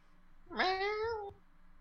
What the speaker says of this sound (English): Cat, go away.